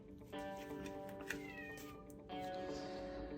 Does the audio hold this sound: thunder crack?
no